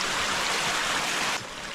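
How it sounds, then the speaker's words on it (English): Hot water rushes steadily into a natural hot spring pool, a continuous close-up gush with no voices. "It's filling up with hot water pretty quick."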